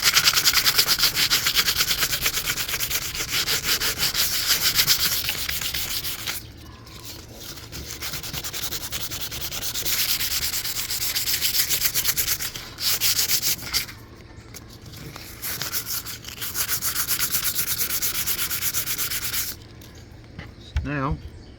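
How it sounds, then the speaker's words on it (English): Sandpaper rubs by hand over a wooden tabletop in long, steady scratchy strokes with brief pauses, close up, while someone talks over the work. "I'm going to do some hand sanding."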